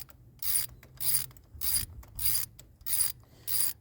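A ratchet threads a spark plug into a 1995 Miata engine with six quick, evenly spaced bursts of clicking, close and fairly quiet, each pass about half a second apart.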